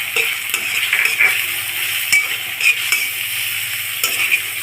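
Chopped tomato stir-fried with onion in a pan for egg paratha, a bright continuous sizzle with intermittent spatula scrapes and light clinks, close and without talk.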